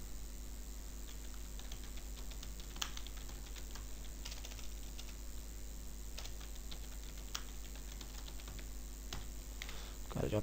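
Fairly faint keyboard typing, with scattered key clicks and taps as text is entered into a Word document, over a steady low hum and fan-like hiss.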